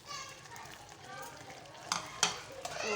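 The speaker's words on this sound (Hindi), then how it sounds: "और इसको मिक्स करेंगे।" A spoon stirs sarson ka saag, cooked mustard greens, in a pot, with a soft, steady sizzle and a few sharp clinks near the end, while voices murmur faintly in the background.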